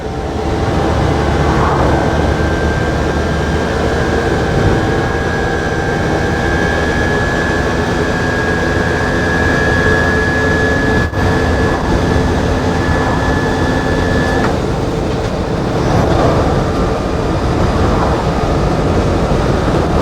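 An electric vehicle's motor drives uphill with a steady whine that rises in pitch and holds, over loud continuous road and cabin rumble, close and sustained throughout.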